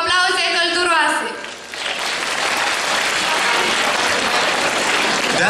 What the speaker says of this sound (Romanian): așa că le mulțumim cu aplauze călduroase